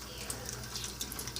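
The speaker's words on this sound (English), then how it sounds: "I'm just going to water it and rinse my hand off." A kitchen tap runs while a hand is rinsed after an oobleck mishap, a steady close hiss of flowing water with small splashy flickers and no voices.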